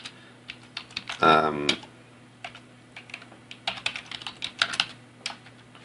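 Fingers type on a computer keyboard in uneven bursts of close, crisp key clicks, with one louder, denser flurry near the start and scattered taps after.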